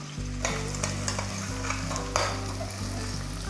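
Onions and chicken with turmeric and salt sauté in a pan for a chicken gravy, giving a dense, even sizzle broken by soft stirring taps, up close and without speech.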